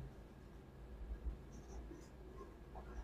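Pen writing out a class 8 math solution on paper, faint soft scratching strokes, quiet and close, with no talk.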